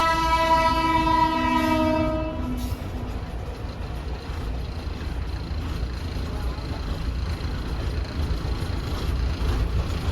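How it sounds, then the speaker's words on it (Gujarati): At a railway crossing near Dhola, a train sounds a loud, sustained horn blast for about two seconds, then its wagons rumble and clatter steadily past, close and continuous; a faint voice may be present. "ટ્રેન આવે છે."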